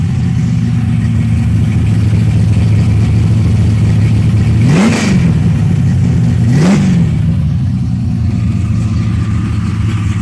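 A 1969 Chevelle street-legal race car with a nitrous-fed 505 cubic inch big-block V8 idles loudly with a lumpy rumble, then blips the throttle twice in quick sharp revs before settling back to idle, close and continuous.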